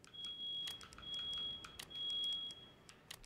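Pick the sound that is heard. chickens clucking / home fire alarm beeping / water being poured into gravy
home fire alarm beeping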